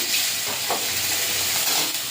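Prawns frying in hot oil in a wok, a loud, close, continuous sizzle with a soft stir or scrape partway through, steady from start to finish and with no talking.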